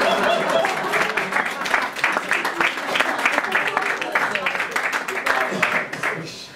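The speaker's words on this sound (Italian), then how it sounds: "Applauso." Audience applause at a live concert of a tribute show, a dense steady wash of clapping filling the whole stretch at close range, easing slightly at the very end.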